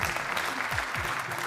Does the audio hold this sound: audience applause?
yes